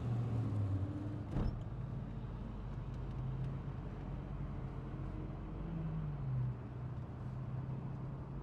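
A 1963 Chevrolet Corvette split-window coupe with a 327 V8 idles steadily and low in the background, with a faint rumble throughout. One brief sharp click or knock sounds near the start.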